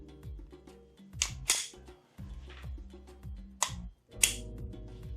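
A Canik TTI Combat pistol fires a few sharp, quick shots, heard fairly close amid a busy outdoor range background.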